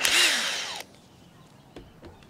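A cordless drill driver drives a screw in one short, loud whir that winds down after under a second, followed by a few faint clicks and knocks in a quiet room.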